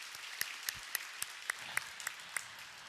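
Scattered claps from a congregation during a Korean church service, a sparse, uneven handful of sharp hand claps heard faintly over quiet room noise.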